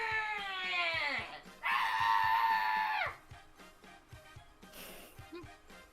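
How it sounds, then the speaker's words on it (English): Two long, shrill screams ring out one after another, each bending downward in pitch at its end, over a quieter background with faint voices murmuring. "There's the Samson scream."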